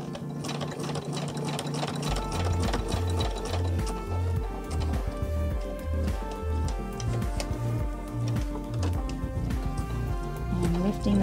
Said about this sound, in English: Just feeding it into our machine.